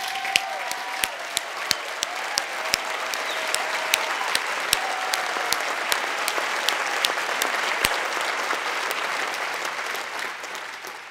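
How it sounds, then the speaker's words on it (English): Sustained audience applause at a college commencement ceremony, a dense steady wash of many hands with a few sharp individual claps standing out, holding evenly for about eleven seconds before beginning to thin at the end. "So I'd like to start by a round of applause for our class of 2014"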